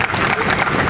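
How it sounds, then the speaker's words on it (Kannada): An audience at a public event in Bengaluru claps in a short, dense burst of applause. The clapping is loud and continuous, with faint crowd murmur mixed in. "ದೊಡ್ಡ ಚಪ್ಪಾಳೆ"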